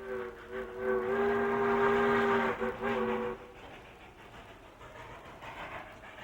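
A train rolls past on a Western railroad, its steam whistle sounding a loud, sustained chord for about three seconds before cutting off, leaving the rumble of the passing cars fading behind.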